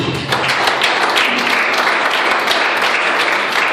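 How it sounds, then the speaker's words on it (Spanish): A congregation at an apostolic youth church in Venezuela claps for Jesus, a thick, loud burst of many hands applauding evenly and continuously with no break. "Démosle el aplauso a Jesús"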